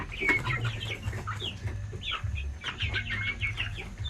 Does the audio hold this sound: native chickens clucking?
yes